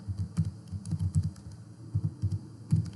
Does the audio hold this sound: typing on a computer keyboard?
yes